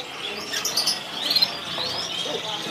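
A Star Blue canary of the Loper line sings very faintly from a kiosk in a bird market, a few thin, high chirps and short trills rising briefly over a quiet background.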